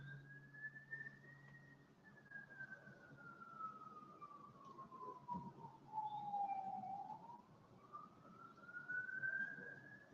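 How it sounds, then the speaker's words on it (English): Emergency vehicle siren from a nearby road, one long sweeping wail rising and falling over about ten seconds, moderately distant and steady, with faint outdoor background hum and no talk. "how close am I to the road that I'm hearing sirens and things?"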